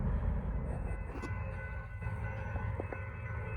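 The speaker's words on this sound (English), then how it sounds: "northbound, first train of the day" Norfolk Southern freight train passing close by, a loud steady low rumble and rail roar throughout, with faint high squeals of wheels and no talk.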